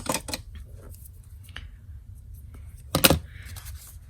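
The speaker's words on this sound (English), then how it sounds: "let me cut that." Scissors snipping paper for a handmade tag book, a few sharp close cuts with a louder snip near the end, quiet between strokes.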